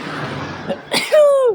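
A single sharp sneeze bursts out close by after a brief inhale, ending in a rising, squeaky vocal tail, with quiet talk in a room beforehand.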